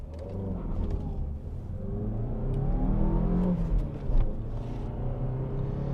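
A Fiat Egea Cross with a 1.4 engine revving up and accelerating from a stop in a 0-100 run, pitch climbing through the gears over a steady road rumble, heard from inside the car.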